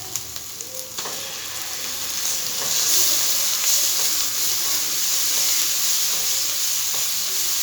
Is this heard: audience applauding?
no